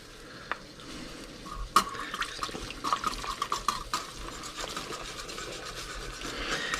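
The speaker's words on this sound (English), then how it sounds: "use a whisk and just incorporate the gravy in." Whisk stirring McCormick brown gravy mix into liquid in a slow cooker with a bottom round roast, a steady soft scraping and swishing broken by a few light clinks against the pot.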